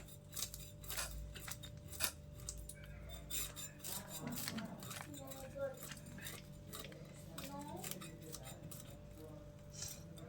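Puti fish being cut in a home kitchen for a chorchori, a busy run of crisp knife or scissor snips and small clinks against a plate over a low steady hum, with faint background voices.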